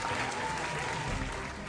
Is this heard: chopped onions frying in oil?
no